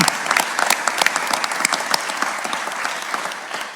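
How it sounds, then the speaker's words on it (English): Audience applause at a UT Austin university startup pitch competition final: dense, steady clapping from a large crowd fills the whole stretch at an even level, with no talk over it. "Can we have a round of applause for those folks?"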